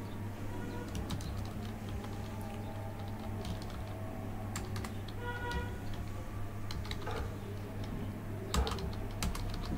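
Keys on a computer keyboard click in irregular bursts of quick taps with short pauses between them, fairly faint over a low steady hum.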